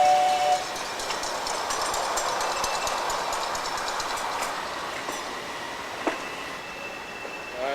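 A live steam miniature train at a North Georgia Live Steamers meet rolls past steadily, its wheels giving a continuous rumble with rhythmic clicks over the rail joints and a brief squeal near the end.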